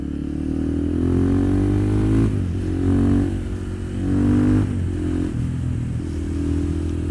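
KTM supermotard motorcycle ridden close by, its engine revving loudly in repeated swells that rise and fall in pitch over a steady drone.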